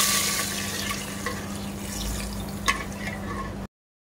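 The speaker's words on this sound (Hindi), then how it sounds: "अब हम इसमें घी डाल देते हैं, जो हमने पकाई थी ना वो घी डाल देते हैं।" Cooked ghee poured into a pot of mutton rogan josh, a steady moderate sizzle with a faint hum beneath and one brief clink before it cuts off.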